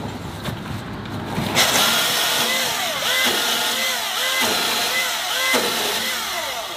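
A Milwaukee battery-powered chainsaw cuts through wood, its motor whining steadily with repeated dips in pitch as it bites under pressure, close and fairly loud.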